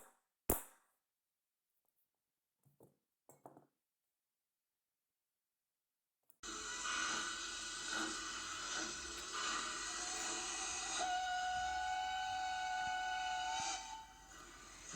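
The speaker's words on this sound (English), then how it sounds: "The train is now leaving the interpretation station." A train pulling away as a sound effect: after a few faint knocks and a stretch of silence, a loud steady rumble with whistle-like tones starts suddenly and runs to the end, with a clear rising whistle tone partway through.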